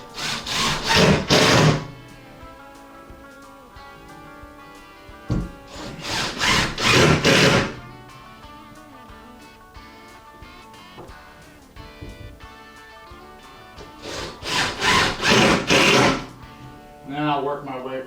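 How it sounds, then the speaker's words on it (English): A power screwdriver driving screws into the wooden corner post of a porch, in three loud bursts of whirring with quieter handling noise between them. "then I can go ahead and finish screwing off the corner post here"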